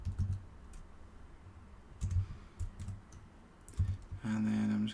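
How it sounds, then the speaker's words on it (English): Keys clatter on a computer keyboard as a file name is typed, a few quick bursts of close clicks separated by pauses, ending in a short steady hum. "So I'm just going to type in hello world"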